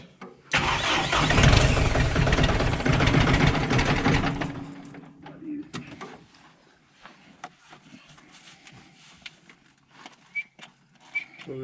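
A Kubota M9540 tractor with running and starting problems cranks loudly for a few seconds, then the engine cuts out, leaving scattered clicks and faint rattles nearby.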